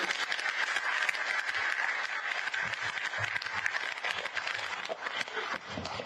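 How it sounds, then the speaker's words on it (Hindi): An audience at a party workers' gathering in Uttarakhand claps steadily, dense overlapping applause holding at moderate level for several seconds, faint and a little distant, with no voices over it. "अपने लिए तो ताली बजाते।"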